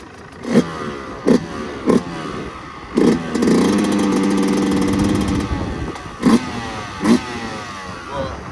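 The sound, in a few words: new motorcycle engine revving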